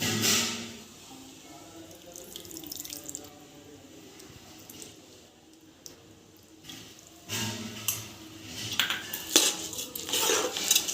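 A spoon mixing mutton biryani rice in a metal pot: repeated clinks and scrapes against the pot, with soft wet squishing between them, growing louder and busier toward the end.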